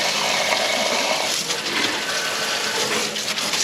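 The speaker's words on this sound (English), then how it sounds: "Let's get all that antifreeze out of there." Antifreeze gushes steadily out of the cooling system of a 1964 Ford F100 pickup with a 292 engine, a continuous close splashing pour with faint clinks mixed in and no voices.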